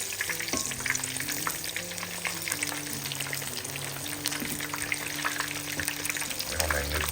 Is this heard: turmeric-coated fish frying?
yes